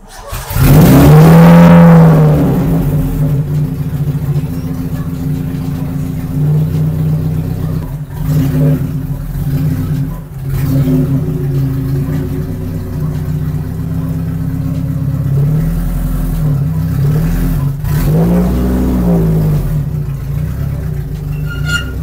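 A small Toyota 4AG Blacktop engine revs hard, its roar rising and falling through several throttle blips, with a rough idle in between, close and loud.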